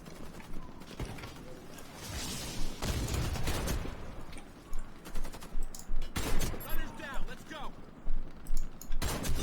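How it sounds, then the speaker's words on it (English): Gunfire in the Warface shooter comes as bursts of rapid shots, first dense and continuous, then a steady run of short, evenly spaced volleys, with someone talking over parts of it. "it's pretty easy to shoot in this game, weirdly enough"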